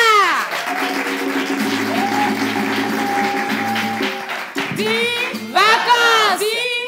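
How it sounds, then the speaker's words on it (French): A studio audience on a French variety show applauds and cheers to welcome a guest, dense clapping mixed with sustained musical tones and bright shouting voices that swell near the end. "Nous allons inviter ici, sous les acclamations de ce charmant public, Miss Sarah."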